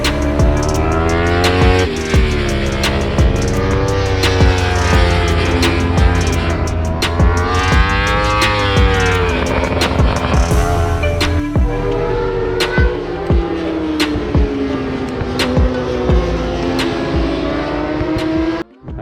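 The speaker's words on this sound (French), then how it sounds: "on va essayer de faire des petites prises de vue des motos qui roulent en ce moment." Racing motorcycles roar loudly around the Le Vigeant circuit during an Ultimate Cup 2020 race, engines revving and shifting continuously as bikes pass one after another, with sharp pitch swoops as each machine goes by.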